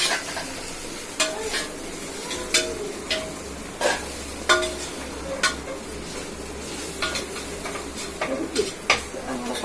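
Mint leaves sautéing in a pan for chicken biryani, with a steady sizzle under a series of sharp spatula scrapes and taps against the pan at irregular intervals; no one talks.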